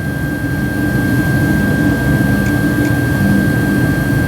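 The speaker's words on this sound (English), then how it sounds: "And we get to listen to my furnace run." A household furnace runs as a loud, steady broadband roar with a constant high whine, unchanging throughout and with no voices.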